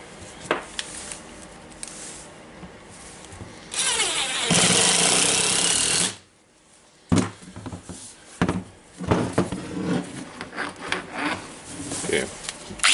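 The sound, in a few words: Makita 9558HN small angle grinder running after armature repair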